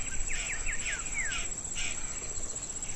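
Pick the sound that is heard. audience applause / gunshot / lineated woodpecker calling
lineated woodpecker calling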